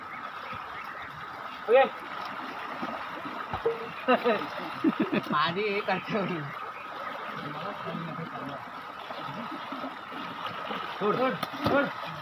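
Strong stream water rushing through a village pool in Konkan, a continuous close burble and splash running under excited voices and shouts of people swimming.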